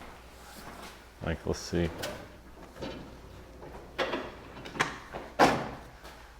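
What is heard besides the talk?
drawer being opened in a race car workshop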